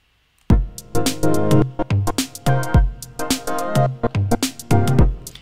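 Rhythmic trance-gated synth pad in Ableton Live, chopped into loud bursts and short stabs with a faint sustained low floor left between the gated hits, repeating steadily and close up with no voices.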